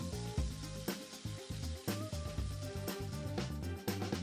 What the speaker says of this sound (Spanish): Cuando el pollo ha cogido color, vamos a sofreír el pimentón dulce.